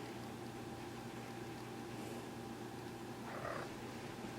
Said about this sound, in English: you might be hearing my little kitty right now